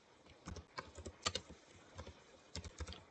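Fingers type on a computer keyboard in uneven clusters of crisp, close keystrokes with short pauses, quiet in an otherwise still room.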